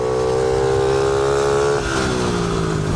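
A motorcycle engine held at full throttle, loud and close, with a steady high-pitched drone that drops slightly in pitch near the end and no voices.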